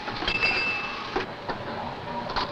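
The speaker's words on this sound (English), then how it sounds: "This is the clank of a machine molding plastic." A plastic molding machine in a factory runs with a continuous rumbling clatter, broken by several sharp metallic clanks spaced irregularly through the noise.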